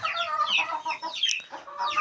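Chickens clucking and cackling close by in a rural yard, a quick run of overlapping calls with one sharper squawk partway through, loud and with no talk over them.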